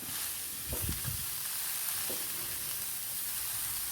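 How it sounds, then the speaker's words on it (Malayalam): Spinach thoran stirred in a pan after salt goes in, giving a steady soft sizzle and hiss with a few muffled scrapes and taps, with no voices. "ആവശ്യത്തിന് ഉപ്പും കൂടെ ഇട്ട് കൊടുക്കാം നല്ല പോലെ ഒന്ന് ഇളക്കി കൊടുക്കാം"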